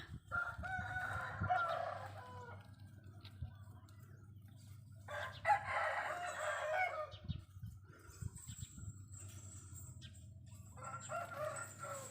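A rooster crows repeatedly in the morning, loud bursts recurring over a low steady background hum, with no talking.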